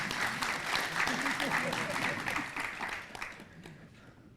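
Audience applause at a National Assembly forum in Korea, a broad crowd clapping steadily for several seconds before gradually thinning out, with some voices mixed underneath.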